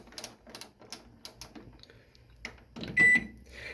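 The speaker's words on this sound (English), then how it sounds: "this is the Toshiba microwave air fryer. So you want to hit bake." Keypad presses on a Toshiba microwave air fryer as it is set to bake, a series of short, quiet taps at an even pace ending in one louder, sustained electronic beep.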